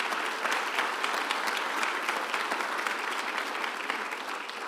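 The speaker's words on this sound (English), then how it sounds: "Let's give Don a round of applause." An audience gives a round of applause for Don Rogers at the announcement of Adia Barnes as SMU's women's basketball head coach, a loud, even wash of clapping that holds throughout.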